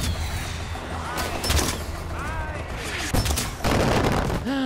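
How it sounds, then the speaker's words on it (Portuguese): Mortar fire in Far Cry 4, heavy booms and repeated blasts landing amid constant gunfire, loud and near, with someone talking over the chaos. "os caras tão mandando morteiro em cima de mim"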